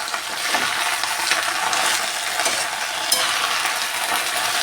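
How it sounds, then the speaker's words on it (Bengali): Leafy greens (shak) with green chilli stir-fried in a pan, a steady close sizzle with scraping and clinking of the spatula against the pan, continuous without talk. "এক মিনিটের মতো নাড়লেই এই শাকটা একদম কমে যায়"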